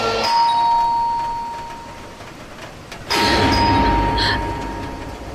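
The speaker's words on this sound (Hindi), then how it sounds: "तभी अचानक से दरवाजे की घंटी ने" A doorbell rings twice, a bright chime that decays, then a second louder ding-dong with clanging overtones, fairly close.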